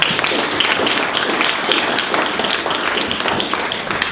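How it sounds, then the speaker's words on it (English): Steady audience applause for a speaker at a talk fills the whole stretch, dense and even with no voices breaking through. "let's give Travis a big round of applause"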